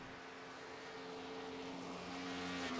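A race car engine from a racing video game at Pocono drones steadily at high revs, its tone rising slightly and growing a little louder, with no voices heard.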